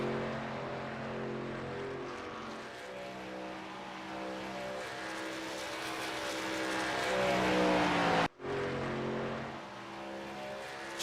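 Race trucks lap a superspeedway during qualifying. Droning multi-tone engines build and sweep past, with a loud passing roar that drops in pitch, a brief cut, then the engine hum resumes.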